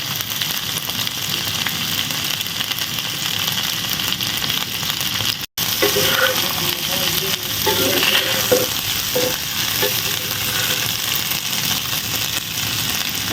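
Scrambled egg and pasta fry together in a pan with a steady, close crackling sizzle, broken by scraping stirs and a brief drop-out midway.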